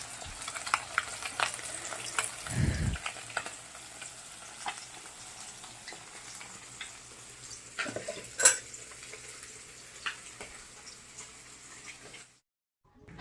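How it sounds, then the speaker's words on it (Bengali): Fish pieces fry in oil in a home kitchen pan, giving a soft, continuous sizzle with scattered clicks and scrapes of stirring, one brief low thump, and a cut to silence near the end. "আর মাছের ঝোল করব বলে এদিকে মাছ ভাজা বসিয়ে দিয়েছি আমি।"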